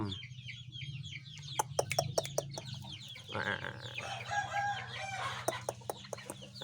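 A Thai rooster gives short clucks followed by a rising crow, close and clear, with sharp clicking taps in between and a steady low mechanical hum behind.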